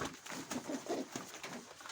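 Mykolaiv pigeons coo softly in low, rounded bursts, a few close calls over a steady hiss of background noise, with no talking.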